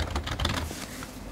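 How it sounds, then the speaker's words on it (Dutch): A telephone number is typed on a computer keyboard, a quick run of close, crisp key clicks in an uneven rhythm lasting just over a second, with no talking. "je tikt een telefoonnummer in op je toetsenbord"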